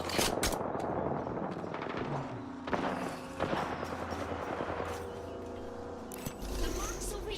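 Rapid gunfire in the battle royale shooter Apex Legends, bursts of automatic shots and impacts throughout with a louder thud near the end, under a player's voice.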